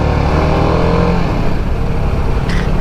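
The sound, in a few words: TVS Apache sport motorcycle engine deep growl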